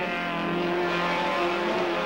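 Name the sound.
Honda CRX race car at Snetterton crossing the finish line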